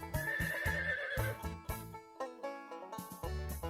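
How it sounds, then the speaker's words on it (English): A horse neighs in a loud, close whinny with a falling, wavering pitch, followed by shorter snorting breaths and a second whinny near the end. "This is a horse. The horse can run."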